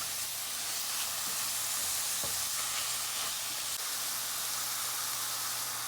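Onions sautéing in a pan for a coconut milk and mushroom salmon dish, giving a steady, soft sizzle and hiss with a faint low hum underneath, continuous and fairly quiet throughout.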